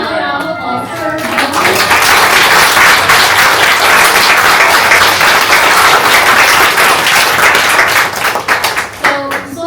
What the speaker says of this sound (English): So please give another round of applause for her.